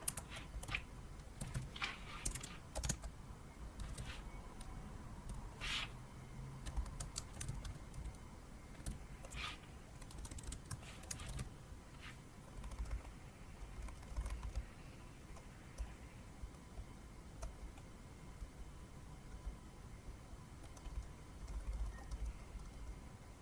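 Quiet, irregular tapping of keys on a computer keyboard while code is typed, bursts of clicks separated by short pauses, fairly close and alone.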